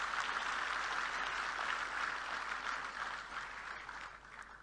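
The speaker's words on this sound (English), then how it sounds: "Give a big applause for our SRM team." Audience applause for a team at the launch of a quantum reference facility, a faint, distant wash of clapping that holds steady and slowly tapers.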